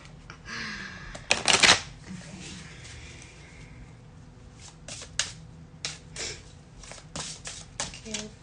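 Crisp riffling bursts of cards being shuffled, one loud flurry early on followed by several lighter, shorter shuffles, close and clear.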